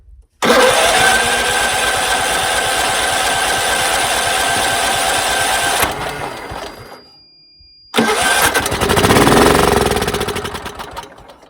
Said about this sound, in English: Hit the starter and see what happens.